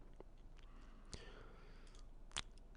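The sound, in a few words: computer mouse click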